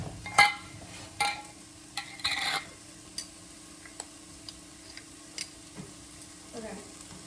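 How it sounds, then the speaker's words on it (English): Sausage and onions browning in a pan give a soft sizzle, with a few scraping stirs and clicks scattered over several seconds. "here is the sausage and the onions, and I'm just gonna let them get browned"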